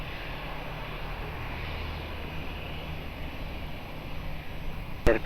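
An airliner takes off at Lisbon Airport, a steady broad engine roar holding throughout, with a brief sharp click near the end.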